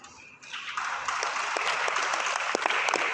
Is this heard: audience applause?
yes